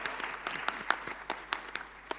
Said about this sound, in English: I think we can give a round of applause to our fantastic panelists and also to the audience.